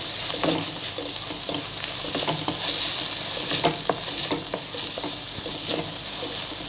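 Onions and turmeric sizzle steadily in a hot pan while a spoon scrapes and stirs them, with irregular clinks over the constant frying hiss.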